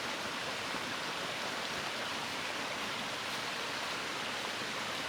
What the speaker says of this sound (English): Bubbling brook.